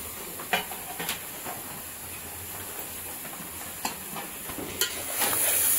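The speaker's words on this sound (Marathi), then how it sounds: "एक आता मस्तपैकी मटणात घेऊया परतून." Goat mutton sautéing in a pot for a Konkan Ganesh festival dish gives a steady, soft sizzle and hiss, broken by a few sharp scraping stirs, with no voices.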